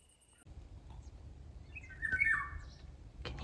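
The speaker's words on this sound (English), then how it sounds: "Can you hear that bird?" A bird sings at night under a rising full moon at a rural stone house in Portugal, a short bright warbling phrase at moderate distance over low outdoor rumble, no speech.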